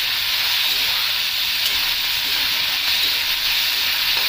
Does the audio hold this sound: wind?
no